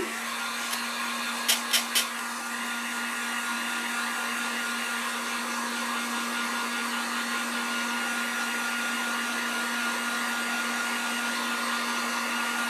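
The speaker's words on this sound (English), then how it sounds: "Let's hit this with the heat gun real quick just to make sure we're dry." Heat gun blowing over acrylic paint on a sign, a loud continuous fan whir with a steady low hum, broken early by a few sharp clicks or taps.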